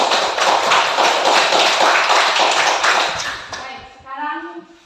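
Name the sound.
classroom applause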